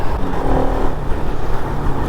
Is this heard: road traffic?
yes